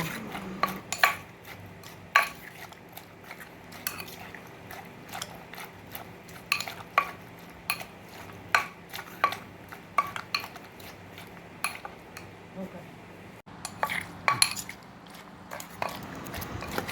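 Green papaya salad with seasonings and fermented fish sauce pounded in a mortar, a steady run of sharp knocking strikes with scraping between them, close and fairly quiet, no talk.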